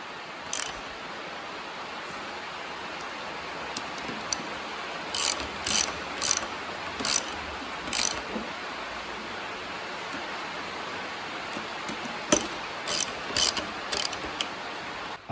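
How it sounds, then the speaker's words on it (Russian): Hand ratchet clicks in short bursts while bolts are run down on the gearbox cover of a Suzuki Jimny R72 manual transmission, the rapid pawl ticking close and crisp against a quiet workshop hiss, with pauses between groups of strokes. "После того, как мы болты все подтянули, далее до конца их заворачиваем."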